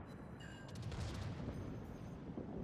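A battleship fires a big gun salvo in World of Warships, a dense rumbling boom that rolls on for a couple of seconds, heavy in the low end and fairly faint.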